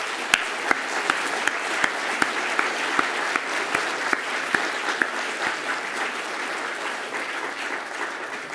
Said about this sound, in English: Would you give him a huge round of applause?